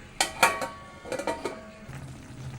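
A lid is set onto a cooking pot in a kitchen, giving a few close metallic clinks and taps in quick succession, followed by a faint low rumble.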